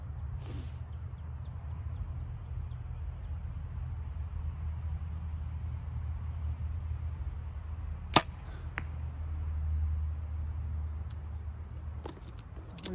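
An arrow from a PSE compound bow strikes a target outdoors, one sharp, loud impact standing alone above steady low background rumble, followed later by a couple of fainter knocks.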